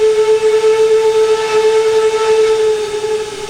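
Old-fashioned hooter steam whistle of a V&T Baldwin 4-4-0 locomotive in the Trainz 2019 simulator, one steady loud sustained tone held without variation, slightly crackling as the loop takes over, with no talking.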